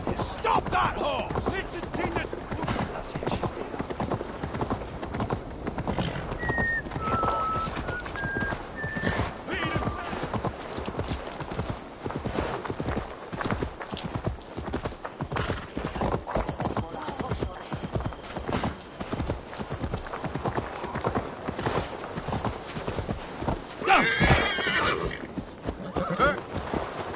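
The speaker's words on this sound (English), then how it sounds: "Stop that horse!" Rapid hoofbeats clatter in a steady galloping rhythm in the video game Assassin's Creed Valhalla, with a horse whinnying briefly along the way, all over a busy background.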